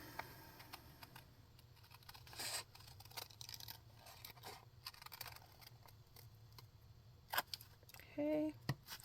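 Scissors cutting paper to make simple library pockets: quiet snips and crisp paper rustles scattered at close range, with a few sharper clicks and a brief tonal squeak near the end.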